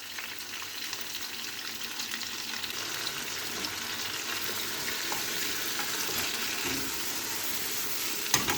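Sicilian peperonata peppers frying in a pan, a steady close hiss of sizzling oil that runs without pause, with a small clink near the end and no talk.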